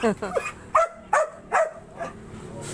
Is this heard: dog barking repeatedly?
yes